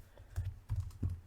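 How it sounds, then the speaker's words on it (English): Quiet typing on a computer keyboard, three brief clusters of soft key taps in quick succession. "My typing is awful."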